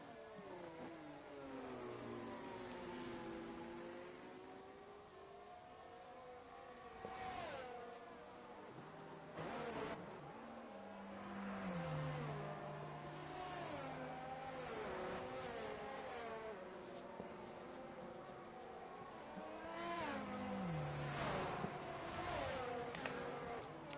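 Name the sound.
race cars in a sprint race, F1 22 video game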